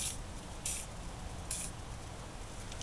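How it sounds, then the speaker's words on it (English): WD-40 sprays onto a rusty car wheel hub in a few short hissing bursts, fairly close, over quiet background noise with no talk. "I'm going to use some WD-40 to direct"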